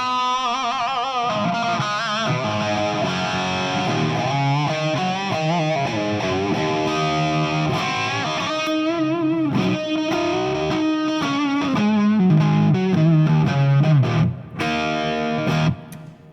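An electric guitar plays distorted riffs through a Marshall JMD:1 amp, loud and continuous with chorus-like shimmer, chords and single-note runs alone with no voices.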